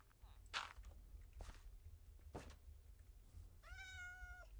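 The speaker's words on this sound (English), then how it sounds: "Nice, there's a cat." A Minecraft cat gives a single clear meow near the end, preceded by a few soft scuffs and footstep-like taps over quiet background.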